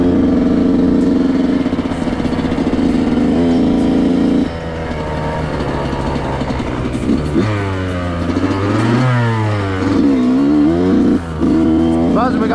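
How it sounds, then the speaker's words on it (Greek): A 2008 Yamaha YZ125 dirt bike engine runs close by, idling steadily and then revving hard several times with rising and falling pitch. "Τα προσωπικά μου οχήματα είναι αυτό εδώ το YZ125 του 8."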